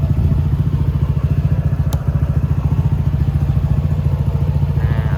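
A 2018 Honda PCX motorcycle engine runs steadily at idle, a loud, even rapid thumping that continues throughout without a break.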